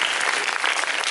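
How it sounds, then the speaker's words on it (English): An audience at a renewable energy conference claps in a dense, steady burst of applause, fairly loud and even throughout. "You should clap for this."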